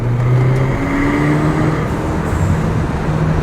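Small car, driven like a go-kart, rolling along a road with a steady close engine drone and tyre rumble throughout, no talk.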